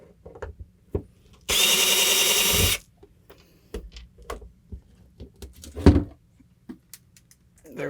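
A power drill unscrews a stainless fastener from boat deck hardware in one loud, sustained burst of about a second, surrounded by quieter clicks, knocks and handling noises.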